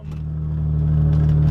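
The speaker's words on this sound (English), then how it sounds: "I'm driving a Turbo X" A Saab 9-3 Turbo X runs with a steady low engine drone heard from inside the cabin, loud and continuous with a slight rise in level.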